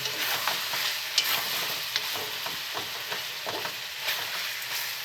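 Chicken curry with pepper cooking in a pan, giving a continuous close sizzle with scattered sharp clicks and light stirring scrapes throughout, no voices.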